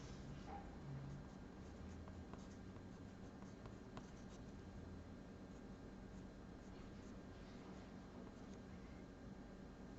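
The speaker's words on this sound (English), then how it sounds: "It's fun drawing a circle around a camera." A compass draws a circle on calligraphy paper with faint, continuous scratching and light scraping, quiet and close, alone without speech.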